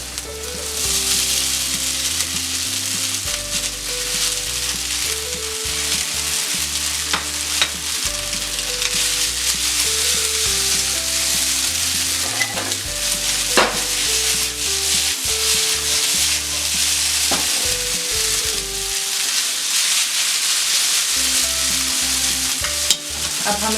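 Noodles are stir-fried in a pan for Veg Schezwan Manchurian noodles, giving a steady, close sizzle with continuous scraping and tossing strokes and no voices.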